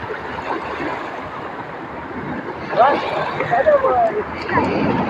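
Big sea waves break and surge at a beach, a loud rushing wash of water that swells partway through while excited voices call out over it.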